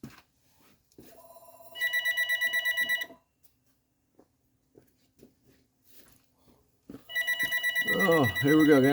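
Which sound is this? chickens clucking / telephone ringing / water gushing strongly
telephone ringing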